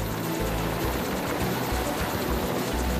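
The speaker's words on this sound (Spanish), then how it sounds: "Se trata ahora de comprobar el funcionamiento del helicóptero que lleva embarcado la fragata." A helicopter embarked on the frigate Almirante Juan de Borbón runs with a dense, steady rotor and turbine roar, loud and continuous, with a rhythmic low-end thump and no voices.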